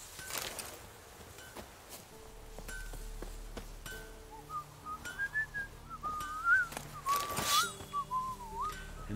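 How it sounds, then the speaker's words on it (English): A guard on patrol in The Witcher 3 video game whistles a wandering tune. The whistling comes in clearly at mid-distance over soft game ambience, with occasional clinks and taps. "And there's the patrol right there, just whistling along"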